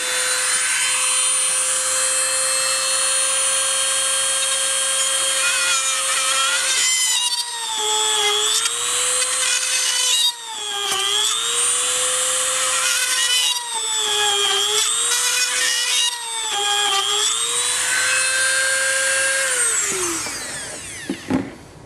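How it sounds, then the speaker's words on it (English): A high-pitched power drill whines continuously, repeatedly dipping in pitch as it bores holes in wood for model railroad wiring, then spins down at the end. Loud and close. "let me go ahead and start drilling"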